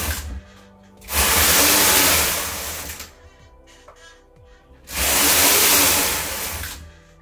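A Brother KH260 knitting machine knits rows of plain knit as the carriage sweeps across the needle bed in two loud, whooshing passes of about two seconds each, separated by a quieter pause with light clicks.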